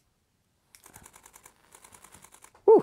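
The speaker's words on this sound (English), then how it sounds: "Press the shutter." A camera shutter fires in a rapid run of crisp mechanical clicks, fairly close, in two bursts with a brief pause between them, followed by a louder tonal sound at the end. No one speaks.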